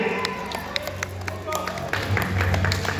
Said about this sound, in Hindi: बड़े जोरदार ताली हो